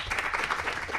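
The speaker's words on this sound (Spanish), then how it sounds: "Un aplauso para la Escuela Marcela Paz de la Florida." A short burst of audience clapping for a visiting school group at a science outreach event, an even patter of many hands with no talk.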